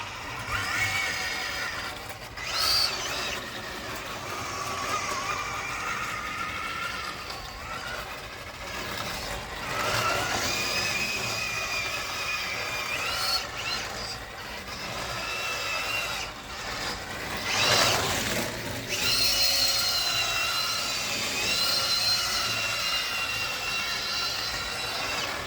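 A Tamiya King Cab RC truck with a slipping ball differential runs its gearbox and steering, giving a continuous close mechanical whine that surges and eases repeatedly.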